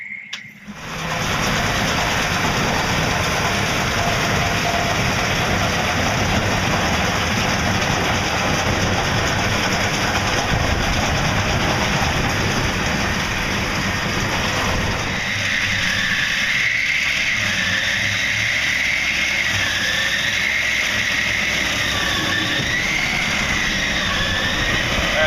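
WR Series windrower harvesting energy sorghum, its engine a steady loud droning roar that holds nearly unchanged and shifts to a slightly different tone partway through.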